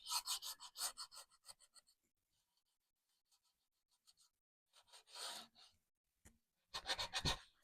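Sandpaper rubs the edges and corners of a wooden sign in short, close scratchy strokes, quick rasping bursts separated by quiet pauses.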